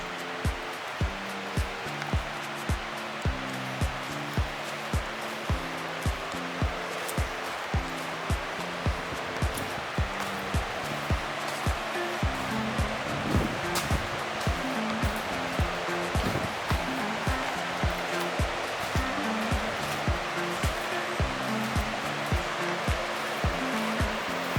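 Heavy water flow roars steadily at Baker's Falls in Horton Plains, a dense, continuous rushing wash with a regular faint knocking pulse running underneath and no talk.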